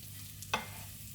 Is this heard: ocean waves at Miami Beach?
no